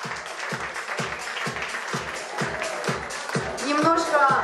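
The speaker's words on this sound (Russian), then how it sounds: "давайте аплодисменты сразу. Большие, громкие аплодисменты." An audience at a Brooklyn stand-up comedy benefit claps for a comedian, with steady mid-level clapping in the background, a regular low beat of music running under it, and a voice talking over the top.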